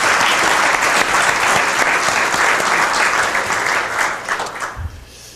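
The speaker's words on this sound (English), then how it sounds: "We can go ahead and give them a round of applause regardless." An audience at a city meeting breaks into sustained loud clapping that holds steady for several seconds, then thins out and fades to a few scattered claps.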